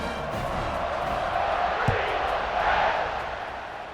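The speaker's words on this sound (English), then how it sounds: "this crowd is buzzing after that last score." Stadium crowd noise in a college football video game, a steady loud roar and murmur of many voices with a brief thump, continuous throughout with no clear speech over it.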